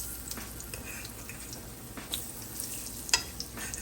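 A banana fritter frying in a pan, with a steady soft sizzle and the light scrape and knock of a utensil as it is turned over.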